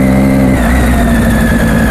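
A 600cc motorcycle engine revving loudly and close, a dense continuous roar with a steady high whine, heard alone with no talk.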